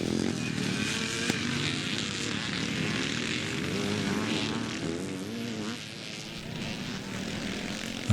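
Classic motocross race with CZ motorcycles and other vintage bikes at Bennett's Hill near Reading, UK, a dense continuous roar of two-stroke engines revving and passing, loud and steady throughout with a faint voice underneath.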